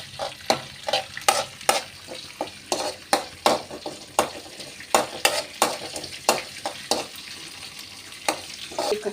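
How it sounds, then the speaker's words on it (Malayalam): Green chillies and curry leaves fry in a pan, with a constant sizzle under regular sharp scraping strokes of a spoon stirring, about two per second, close and moderately loud. "ലേശം കറിവേപ്പില ഇട്ട് നമുക്ക് നന്നായിട്ട് മിക്സ് ചെയ്തെടുക്കാം."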